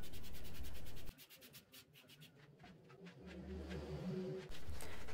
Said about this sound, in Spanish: vamos a ocupar el mismo disco del esmeril para botar todo lo que sea sólido y no pertenezca al tablero